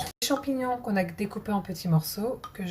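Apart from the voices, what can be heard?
None of the usual background noises is heard.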